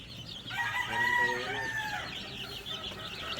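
Newly hatched Boston Black chicks, about three days old, give a few high, thin peeps close by, with a brief cluster of calls that then fades to quieter background.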